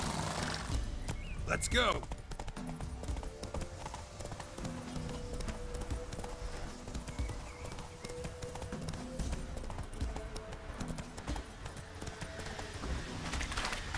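Roach, a horse in The Witcher 3, gallops with a steady drumming of hooves, joined by a brief whinny early on and ambient game music, while someone speaks over it.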